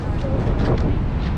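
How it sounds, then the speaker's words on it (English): Wind buffets the deck of a cruise ship near Juneau, Alaska, a low, steady rumbling rush that lasts the whole brief moment. "It's really windy, but it's fresh air."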